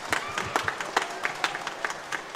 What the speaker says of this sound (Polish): Wielkie brawa również dla nich.